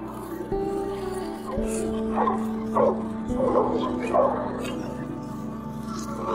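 Dog barking and yipping in the middle of a wild boar hunt, close by, with repeated excited barks and whines over a steady background and some voices.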